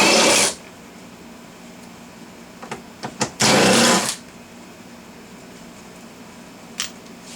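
A power tool whirs in two short bursts, about half a second each, while removing bolts from the rear spoiler of a 2017 Honda Civic hatchback. A few small clicks fall between the bursts, and a faint click comes near the end.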